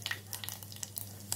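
Mustard seeds, cumin and curry leaves tempering in hot oil in a pot on a gas stove, a faint scattered sizzle with small sharp pops and crackles over a low steady hum, no talk.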